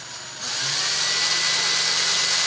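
A power driver whirs steadily for about two seconds, driving screws into a plastic speaker trim ring at close range, then cuts off abruptly.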